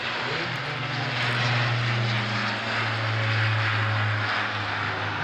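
A Douglas DC-3 Dakota propeller airliner flies a display at the Le Bourget airshow, its piston engines droning loud and steady with a low throbbing hum and broadband roar throughout.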